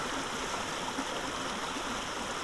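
Creek water flows steadily in a continuous, close rushing babble, with no voices over it, at a spot where someone pans for gold.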